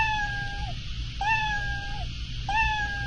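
A cartoonish cat meow sound effect from a Scratch game project, three clear, tonal meows that each bend downward in pitch, evenly spaced and alone over a low steady hum.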